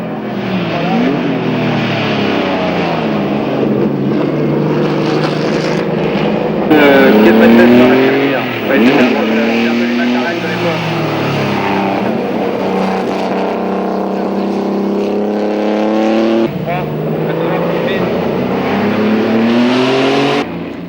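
A Maserati 250F racing car's 2.5-litre six-cylinder engine roars loud and near at a historic Grand Prix event, pitch climbing and falling through gear changes across repeated passes, with someone narrating over it.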